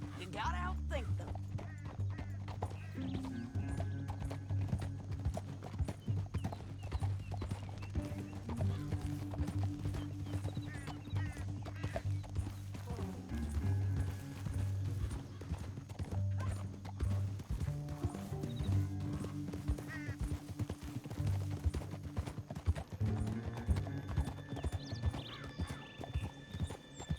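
Horse hooves clip-clop steadily with occasional neighs in the video game Red Dead Redemption 2, a continuous rhythmic trot under music and talking voices.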